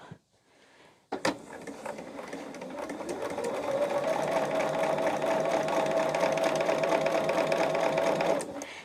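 A sewing machine stitches a quilt block. A click is followed by a rapid, steady mechanical whir that runs at an even pace for about seven seconds before stopping abruptly, close and fairly quiet.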